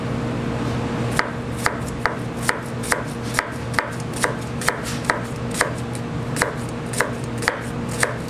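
A Sakai Takayuki 240mm wa gyuto knife chops food on a board in sharp, evenly spaced strokes, about two per second, close and crisp over a quiet background hum.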